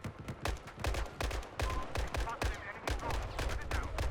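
Gunfire rings out in a labyrinth shooter video game as rapid bursts of sharp shots, loud and close, repeating in quick clusters throughout with little pause between them.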